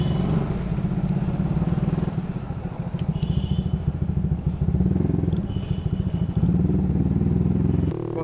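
A loud CVR motorcycle engine idling and revving close by, a rough throbbing rumble that pulses steadily for several seconds with a slight rise near the end and a faint clatter.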